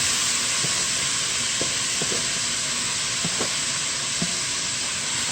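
Callaloo hitting hot oil in a pot for Jamaican steamed callaloo, giving a steady, loud broadband sizzle throughout with a few faint clinks and stirring taps underneath.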